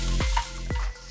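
Vegetables for duck lo mein frying in a hot pan, a steady close sizzle with two quick swishing stirs or tosses partway through, no voices.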